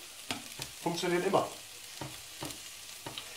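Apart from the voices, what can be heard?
onions frying in a pan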